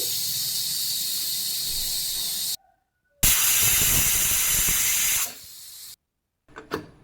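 A pressure cooker whistle: loud, steady hiss of escaping steam in long bursts separated by brief silences, ending with a short sputtering release.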